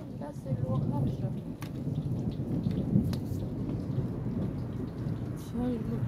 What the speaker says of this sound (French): t'es en train de filmer un orage